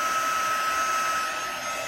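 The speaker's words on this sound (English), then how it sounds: "Notice I'm moving my fingers out of the way of the heat tool." A handheld heat tool, much hotter than a hair dryer, blows a steady, even roar of hot air close by while drying Brusho ink on a porous paper card, with no talking.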